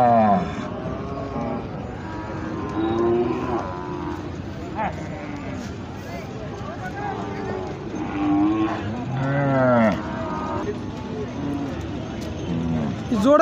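Khillar bulls low repeatedly amid the bustle of a busy cattle market, the moos rising over constant nearby chatter from many people.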